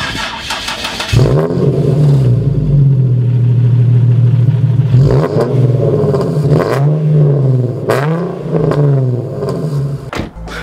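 Twin-turbo Nissan 370Z revving loudly up close: a sharp start followed by a sustained rumbling idle, with repeated throttle blips at steady intervals and a final quick rev, with no talking.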